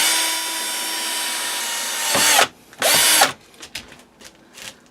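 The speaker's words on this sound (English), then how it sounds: "I'm ready to drill my second hole." A power drill whines steadily at high speed, then stops; two short bursts follow before quieter scraping and tapping sounds.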